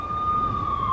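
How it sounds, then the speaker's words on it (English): Police sirens in the video game Max Payne wail steadily in a slum block of tenements, one continuous rising tone, fairly loud and close, with no talk. "I could hear the sirens. Their wail was a crescendo."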